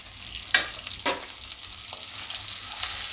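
Curry leaves and asafoetida hit hot oil on a low gas flame while making a Gujarati dal premix, giving brief sizzling bursts with a stir or two, then a quieter steady frying hiss.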